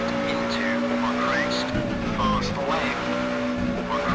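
A rally car in the Richard Burns Rally video game, its engine droning loudly and steadily with pitch shifts as it downshifts, and brief tire scrabbles on the loose surface.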